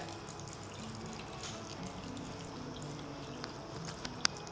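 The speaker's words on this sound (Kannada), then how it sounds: "ಇದಕ್ಕೆ ಮೊಸರನ್ನ ಸುರಿತಾ ಇದೆ" Curd pours over green chillies in a container: a faint, steady liquid pour with a few small ticks and drips near the end, with no talk.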